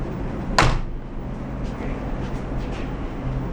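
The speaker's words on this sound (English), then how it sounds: "It is closing the door." A balcony door in a cruise ship cabin on the Cunard Queen Mary 2 closes with a single sharp thud, followed by a steady low hum of ambient noise.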